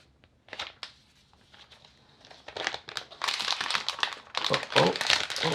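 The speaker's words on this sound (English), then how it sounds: "let's unwrap this thing" Plastic wrap crinkles and tears as an Apple iPad Mini 5 is unwrapped. It begins with a few sparse, close rustles, then builds into dense, continuous crackling.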